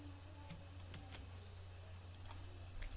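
Faint, scattered keystrokes on a computer keyboard, a few quiet clicks spread irregularly over a low background hum.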